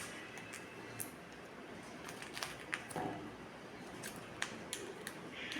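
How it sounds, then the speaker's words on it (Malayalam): Scissors snip through cling wrap laid around a bar of soap, a few faint, crisp cuts spaced out over a quiet background with no talking. "എന്നിട്ട് ഇവിടെ വെച്ച് അങ്ങോട്ട് കട്ട് ചെയ്യാം"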